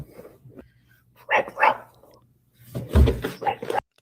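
A man imitates a dog, giving a few short, gruff bark-like yelps in two bursts with quiet gaps between, close and fairly loud.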